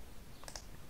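A computer mouse gives two quick, faint clicks close together against a quiet room background.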